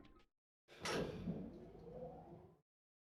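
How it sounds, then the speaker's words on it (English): An elevator door in the Danganronpa video game slides shut with a sharp mechanical onset and a sustained rumbling slide that stops abruptly after about two seconds. "And the door slid shut."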